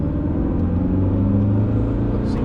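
A 1986 VW Parati LS accelerating from inside the cabin: a loud, steady low engine drone with harmonic rumble that holds and builds slightly, continuous with no break.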